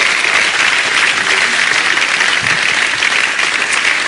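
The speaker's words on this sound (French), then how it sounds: "On va pouvoir l'applaudir, car elle a quand même très bien dansé." Steady, dense applause from a TV game-show studio audience, loud and sustained throughout without a break.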